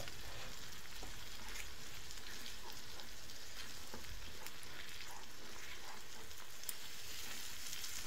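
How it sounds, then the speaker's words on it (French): Menemen, a Turkish mix of vegetables and eggs, simmers in a frying pan with a steady, soft sizzle and faint crackle throughout, no one speaking. "on va venir déposer dans la poêle et on mélange le tout. On laisse mijoter pendant 1 à 2 minutes."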